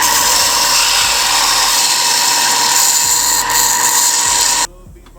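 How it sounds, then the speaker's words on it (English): A power grinder grinding down a brass sheath for a Viking seax, a loud continuous high whine with gritty abrasive hiss and small dips in load, close, then cutting off abruptly near the end. "let's go ahead and start grinding this down"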